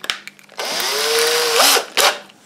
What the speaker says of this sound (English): First you drill a little hole